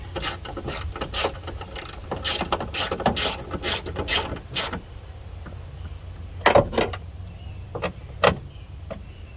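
Metallic ratcheting while the window regulator bracket on a 2000 Chevy Monte Carlo is tightened: a steady run of close, rapid clicks with short pauses, then a few sharper isolated clicks toward the end, with no talking.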